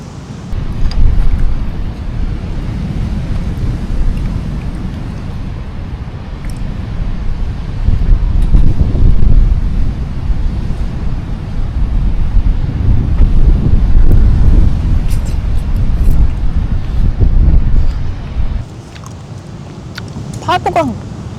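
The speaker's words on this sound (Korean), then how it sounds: "파도가 어제보다 더 세진 것 같아" Strong sea waves at a beach campsite rumble as a low, continuous surge with gusts of wind buffeting the microphone, and people talk over it throughout.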